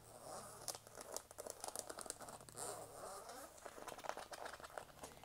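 Soft, close scratching and crinkly rasps from a zipper, repeated in irregular bursts, quiet and intimate with no talking.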